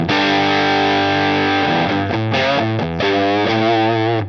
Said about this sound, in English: Almost a fuzzy sound,